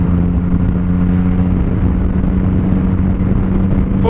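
A 2017 Yamaha MT-09 runs close and loud with a steady mid-pitched engine drone, with quickshifter upshifts around 4000 rpm and little clear change between gears.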